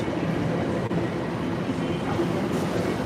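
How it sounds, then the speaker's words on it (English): A train rolls into London Liverpool Street station, a steady rumbling wash of wheels and engine noise with faint clatter, loud and continuous throughout. "Here's another train arriving."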